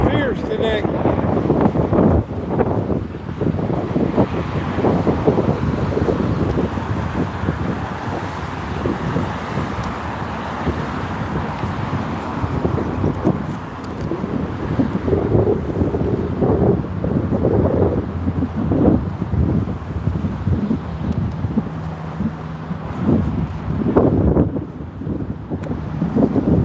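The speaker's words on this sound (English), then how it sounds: "Oh man, that wind is fierce today." Strong, fierce outdoor wind buffeting the microphone in a high-density apartment neighborhood, a continuous loud rumbling roar with gusty surges, and a person talking over it at times.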